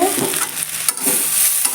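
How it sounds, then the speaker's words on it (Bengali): Fish sizzling and frying in a hot pan, loud and close, with steady spitting crackle and a few stirring scrapes. "এদিকে আমার মাছ ভাজা হয়ে যাচ্ছে"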